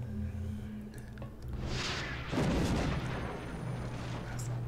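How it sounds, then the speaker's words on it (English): A rocket launches in the turn-based strategy game XCOM: Enemy Within with the Long War mod, a loud booming blast with rumbling follow-through over a constant background hum. "Firing rocket."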